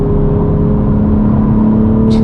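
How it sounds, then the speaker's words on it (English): Straight-piped BMW M4 G82 with the S58 engine, a loud, steady droning exhaust note held at constant revs close by, with a short hiss at the end. "S58. It sounds so good with this exhaust system."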